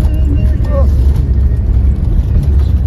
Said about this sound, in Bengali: শালা অটোটা যাচ্ছে দেখ কি জোরে